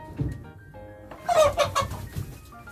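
A few soft clucks from a rooster on an ornamental chicken farm, then a brief burst of louder squawking calls mid-clip before trailing off into quieter clucking.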